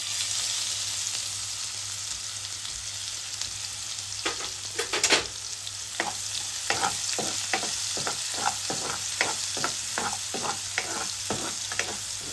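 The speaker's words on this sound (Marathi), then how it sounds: "नंतर घालू आपण बारीक चिरलेला कांदा." Finely chopped onion sizzles in hot oil with cardamom in a pan for a dhaba-style cashew curry, a steady frying hiss broken by a run of rhythmic scraping stirs that grow regular through the second half.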